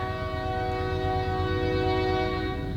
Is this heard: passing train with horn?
yes